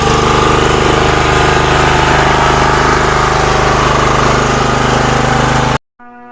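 A 5 kW Honda GX390 petrol generator engine, converted with a gas carburetor, runs loud and steady with a constant droning hum and vibration, then cuts off abruptly near the end.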